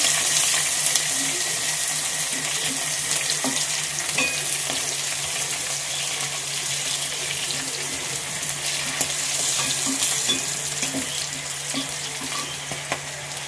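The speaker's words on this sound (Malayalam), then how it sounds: "പച്ചമുളകും വെളുത്തുള്ളിയും ഇഞ്ചിയും ഇട്ടിട്ട് കൊടുക്കാം" Pork frying in a pan with green chillies, garlic and ginger, a steady loud sizzle lasting throughout with light stirring, no talk.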